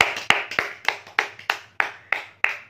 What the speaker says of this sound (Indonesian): Berikan tepuk tangan untuk Tuhan.